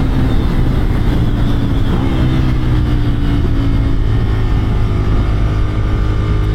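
A Ducati Monster 796 roadster engine drones loudly and steadily with a deep, continuous hum, the pitch shifting slightly under acceleration while riding.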